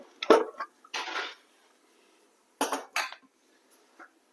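A pressure cooker of beef curry, already steamed through six whistles and with its pressure released, is opened: a few sharp metallic clanks and clatters of the lid in short bursts, separated by quiet pauses.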